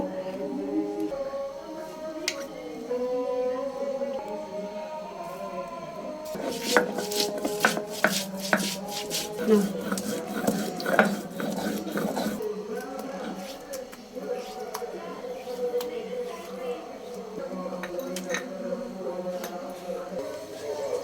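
Ginger, garlic and onion being ground into a paste for a chicken and papaya curry, giving a run of rapid rough scraping and knocking strokes that swell in the middle, close and moderately loud, alongside a steady background voice.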